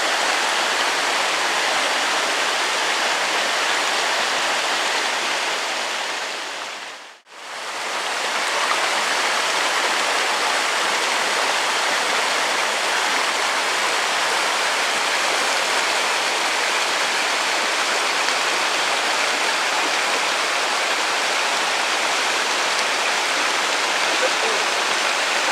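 A small waterfall on a trout stream pours with a loud, steady, broadband rushing of water, close and unbroken apart from one brief dip early on.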